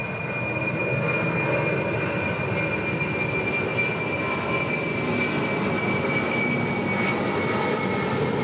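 Atlas Air jet engines roar steadily at LAX, a loud, sustained broadband rumble with a high whine running throughout, close and unbroken with no talk.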